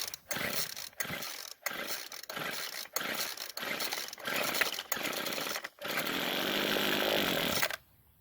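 A weedeater's two-stroke engine, running on fuel poured into the carburetor, fires in a series of loud rough bursts with short gaps, then holds a steadier raspy run for about two seconds before cutting out.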